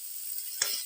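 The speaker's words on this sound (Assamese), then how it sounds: "মই এতিয়া ইয়াত এড কৰি দিম অকণমান পানী।" Water is poured into a hot frying pan of eel curry being cooked, giving one loud sudden sizzle burst that settles into a steady hiss, with no talking.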